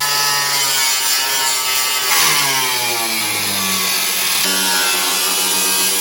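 Power saw cutting through the steel body of a VW Bug along a line beside the chassis legs during a BMW frame swap, a loud continuous whine with pitch shifts as the blade bites, alone without talk.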